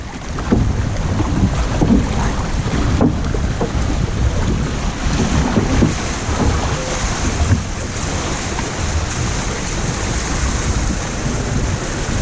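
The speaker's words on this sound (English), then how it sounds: "It's not the longest flume, but it is still a log flume." A log flume water ride at Heide Park in Germany, carrying the listener through the forest, heard as steady loud rushing and splashing water with wind and rumble, continuous and close throughout, no talk.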